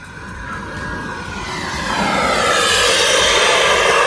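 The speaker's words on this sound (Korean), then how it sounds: "이렇게 비행기, 모형 비행기들 날리는 곳이 있어서 잠깐 가서 구경을 하는데 비행기들 속도가 장난 아니네" Fast radio-controlled model airplanes fly near a riverside cycling path, a steady engine whine that swells louder as one draws nearer, with no talk.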